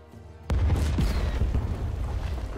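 Bomb carts detonating in the video game Heroish: a sudden heavy boom hits after a quiet moment and is followed by a rumbling, crackling roll of smaller blasts that stays loud and sustained.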